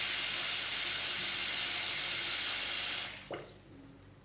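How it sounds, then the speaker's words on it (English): Water rushes steadily through the pop-up plug of a Posh Domaine 900 ensuite basin, then cuts off abruptly into a brief gurgle and a faint trickle. "Water, I think, seems to be draining,"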